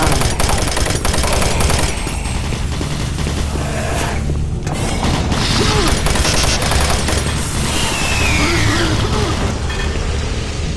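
Automated turret guns in the video game Doom 3 fire in dense, sustained rapid bursts, loud and close throughout, with clanking game effects and a brief synthetic voice in the mix.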